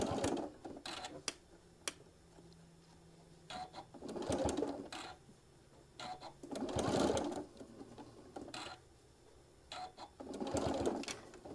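A sewing machine stitches fabric for a small travel case for a mini iron, running in several short, quiet bursts separated by brief pauses.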